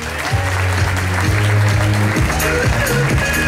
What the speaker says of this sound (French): Vous pouvez applaudir bien fort Mika Pazero.